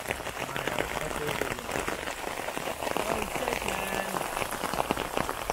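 Steady rain patters densely on a surface close by in Meghalaya, a continuous crackling wash of drops with no pauses.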